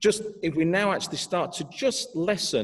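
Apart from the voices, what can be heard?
No everyday noise stands out behind the speech.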